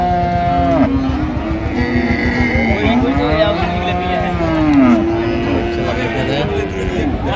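Cows and calves mooing at the Ambari cattle market in Dinajpur, several long drawn-out moos overlapping one after another, close and loud over a busy market crowd with people talking throughout.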